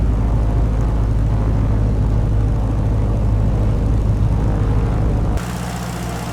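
A light airplane in the Dovetail Flight School game climbs to cruise at about 1,000 feet, giving a loud steady engine drone that drops to a lower, quieter hum near the end.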